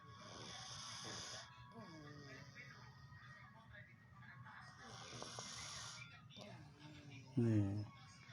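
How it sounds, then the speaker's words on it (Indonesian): A pet cat with a cold snores through its congested nose. The snores are rhythmic and close, repeating several times, with a louder snorting rasp near the end, and a person speaks softly over parts of them. "suaranya ngorok."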